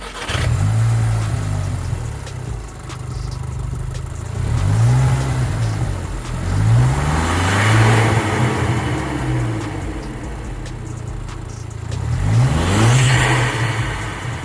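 A Scirocco engine fitted with a swapped intake revs repeatedly, loud and close, each throttle blip rising and falling in pitch over a steady idle.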